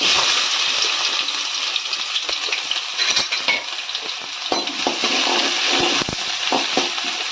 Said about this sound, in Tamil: இப்போ ஆனியன் சேர்த்துக்கலாம்